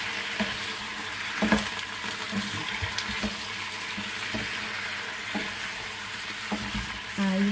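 Chicken, marinated with fish sauce and pepper, sautéed in a pan for chicken curry, a steady sizzle with repeated spatula scrapes and stirring knocks at a regular pace, close and clear, no talking.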